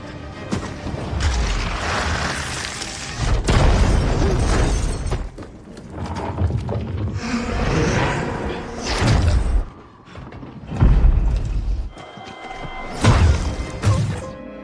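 In a film scene, a soldier fires a bazooka at a strange creature, setting off a series of heavy booms, thuds and shattering blasts with rumbling action noise between them.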